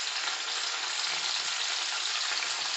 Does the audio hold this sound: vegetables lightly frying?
yes